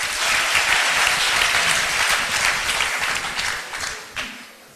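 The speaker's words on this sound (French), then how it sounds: "Applaudissez." A studio audience on a TV quiz show claps loudly and steadily, then the applause gradually fades out.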